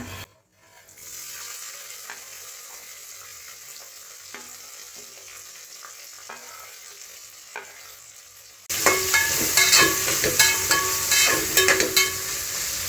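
Green chillies and onions frying with pulao spices, starting as a quieter sizzle with occasional stirring taps, then bursting into a loud, bright crackling sizzle with scraping when the ingredients hit the hot fat.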